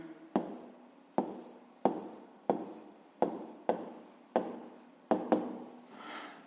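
A pen writes on paper in about nine short, firm strokes at a steady pace, close and clear, with no voices.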